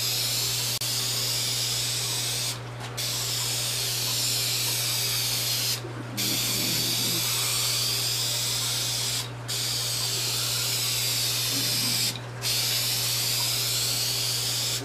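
A rattle can sprays paint onto a car hood close by, giving long, steady hissing passes separated by four short pauses. No other sounds stand out.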